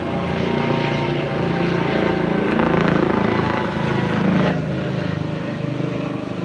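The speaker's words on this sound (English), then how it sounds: "Helicopter flying overhead," A helicopter passes overhead at an outdoor scene, its rotor roar and engine drone steady and loud for several seconds. The noise swells in the middle and eases slightly toward the end, with no voices.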